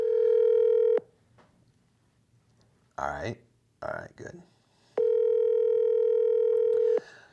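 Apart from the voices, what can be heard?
telephone ringing heard over a Zoom call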